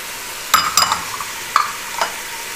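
Goat trotters with whole green and black cardamom, cinnamon and cumin are stirred in a pot, with a soft sizzle broken by a few distinct scraping knocks as the large pieces are turned.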